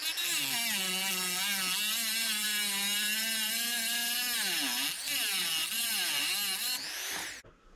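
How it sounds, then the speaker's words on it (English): A Dremel rotary tool cuts into an all-aluminum RC servo with a high, steady whine, its pitch dipping and rising as it bites into the metal, close and loud with no talking. "since this is an all aluminum servo, I'll go ahead and use my Dremel"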